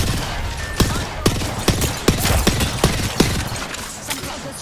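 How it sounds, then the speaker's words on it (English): Gunfire in a shooter video game aimed at the player: a string of sharp, close shots cracking at irregular intervals over a busy background. "Some buggers shooting at me."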